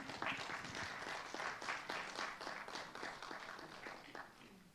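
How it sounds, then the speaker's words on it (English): An audience at a FIDA-Kenya vice presidential debate claps steadily for a candidate taking the podium. The applause is moderate and fairly even, and it stays at a distance. "Kindly give her a round of applause."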